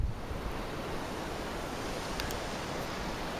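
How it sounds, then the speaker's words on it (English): A waterfall in Nepal roars as a steady, broad rush of falling water, heard from some distance with faint wind on the microphone. "Waterfall."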